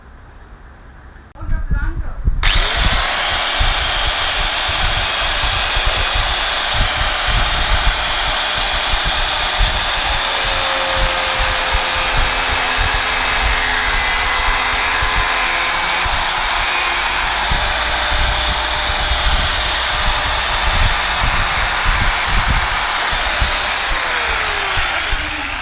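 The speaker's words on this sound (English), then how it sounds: "Now I'm going to take a grinder and slowly shave this area." A power grinder shaves down part of a Lambretta-style S123 scooter body, with a steady, loud, continuous whine that starts after a brief pause and runs unbroken for over twenty seconds, close by.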